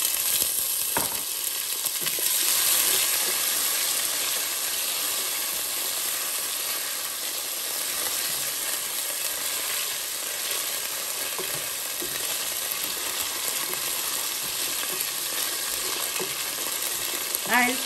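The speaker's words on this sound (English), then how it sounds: "Now I'll add the cubed potatoes." Cubed potatoes frying in ghee after cumin seeds for a chicken kheema pulao, a dense continuous hiss and crackle heard up close, louder when the potatoes go in and then holding steady.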